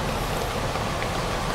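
Rain falling steadily outdoors, a dense, continuous hiss of drops at even loudness, with no voices.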